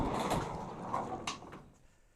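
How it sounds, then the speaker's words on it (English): Door of an abandoned 1977 Pontiac Grand Prix being opened: a close mechanical clunk and latch clicks, with a couple of sharp knocks before the sound fades out. "now I got to open the door up, let the heat in"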